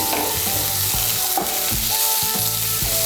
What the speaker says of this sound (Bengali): পেঁয়াজ কুচি আর লঙ্কা কুচিটাকে ভেজে নেব